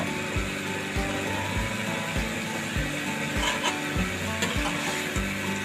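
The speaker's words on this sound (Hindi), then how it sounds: "इसको मैंने 5 से 6 मिनट फ्राई करना घी में।" Meat fries in ghee with garlic and ginger in a karahi, a steady close sizzle punctuated by regular rhythmic thuds and scrapes of stirring, about one every half second.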